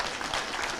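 An audience at a university policy launch event claps in a brief, dense burst of applause.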